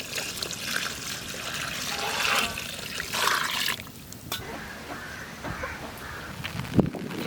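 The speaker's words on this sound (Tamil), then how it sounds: "மழை பெய்யுது." Heavy rain pours outdoors beside a wood-fired stove where goat intestine gravy is cooking, making a steady, dense hiss with a trickling texture. A few crow caws and brief sharp knocks break through the rain.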